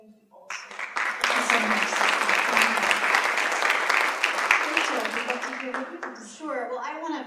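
An opening-night theatre audience applauds the playwrights with loud, dense clapping for several seconds, which tapers off as a voice begins speaking.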